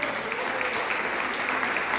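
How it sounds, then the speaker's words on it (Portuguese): A church congregation applauds in worship during a sermon, dense continuous clapping filling the space at an even level throughout. "Você pode aplaudir o Senhor Jesus?"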